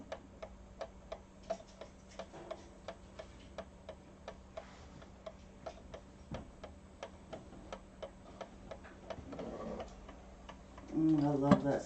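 An old pendulum clock at a live auction ticks steadily and evenly, a quiet regular beat running throughout, with a louder burst of other noise near the end.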